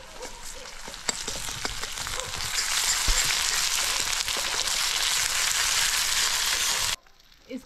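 Onion with ground garlic, ginger and coriander fries in a pan, a steady close sizzle that builds after a few clinks and then cuts off abruptly near the end.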